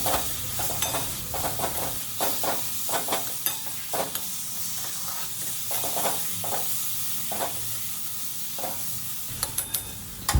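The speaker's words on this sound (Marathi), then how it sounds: "त्याच्यामध्ये रव्यामध्ये घालून मी परत एकदा हलवून घेते आहे" Mashed banana being stirred into roasted semolina for sheera in a hot pan, making repeated scraping and clattering spoon strokes over a low sizzle throughout, with no talking.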